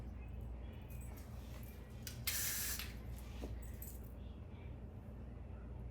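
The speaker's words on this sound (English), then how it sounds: "And this spray gonna help y'all out." A brief hiss of hair spray from an aerosol can lasting about half a second, close by, over a steady low hum with faint clicks around it.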